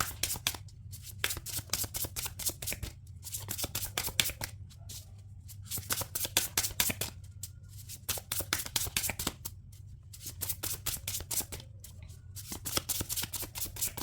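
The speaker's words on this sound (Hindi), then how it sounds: "We'll be taking 3 cards from here." Tarot cards being shuffled by hand close up, repeated rapid riffling bursts broken by short pauses, soft and crisp with no talk.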